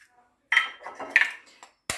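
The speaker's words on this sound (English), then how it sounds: "I'll just go ahead and crack my 3 eggs into the bowl" Three eggs are cracked one after another into an empty bowl: three sharp, bright taps in a quiet room, each followed by a soft wet drop of contents.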